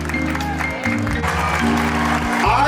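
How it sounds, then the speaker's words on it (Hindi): Loud applause from an audience of students and alumni for a teacher at a school alumni meet, with steady music-like tones running beneath the clapping throughout. "जोरदार तालियां इनके लिए।"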